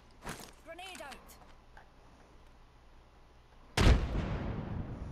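Grenade blast in the game Apex Legends: after a few soft ticks and a brief voice, a single loud explosion bursts near the end and trails off into rumbling debris.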